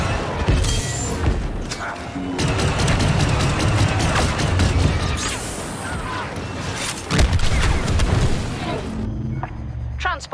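Explosive charges detonating in the Star Wars Battlefront II video game, a loud dense run of booms and crashing blasts with a dip in the middle and a fresh burst near the end.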